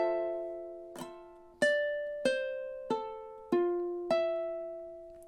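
A ukulele plays measure 13 of a song: five crisp strums in steady time, each ringing chord decaying before the next, quiet and close.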